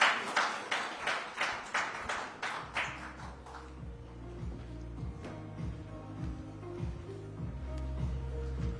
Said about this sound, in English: Aditya Ghosh and CP Gurnani, a huge round of applause.